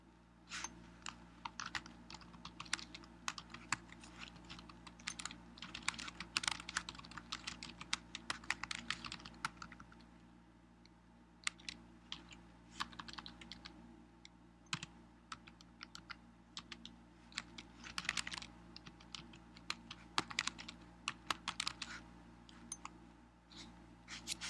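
Someone types in MS Word on a computer keyboard, close and fairly quiet, with rapid bursts of key clicks broken by short pauses and occasional heavier taps, and no voices.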